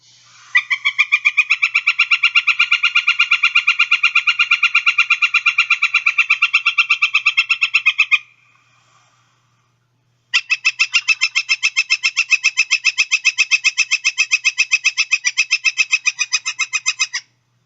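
A woodpecker, in a call that resembles the pileated woodpecker's, gives a loud, fast repeated series of wick notes in two long sustained bursts separated by a short pause, clear and alone.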